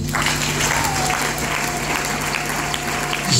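A worship service congregation applauds steadily, a dense wash of clapping that holds at an even level throughout with some faint voices mixed in.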